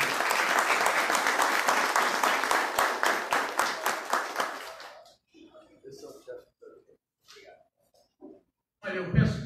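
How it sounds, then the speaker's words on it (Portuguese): An audience applauds loudly for about five seconds at a municipal council ceremony awarding honorary citizen titles, the clapping fading out, followed by scattered voices talking. "uma salva de palmas"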